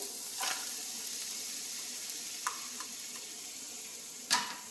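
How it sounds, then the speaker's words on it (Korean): Beef sizzles steadily as it is stir-fried in a pan over fairly high heat for Korean japchae, a continuous close frying hiss broken by a few light clinks of a utensil against the pan. "소고기 볶을 땐 약간 센 불로 해서 이렇게 해서 볶아주세요"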